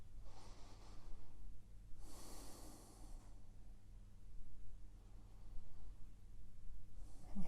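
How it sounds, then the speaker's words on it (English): Slow, deep breaths taken while holding a seated inner-thigh adductor stretch in a runners' mobility routine, a few long, airy inhales and exhales close to the mic over a low steady hum. "Three more breaths."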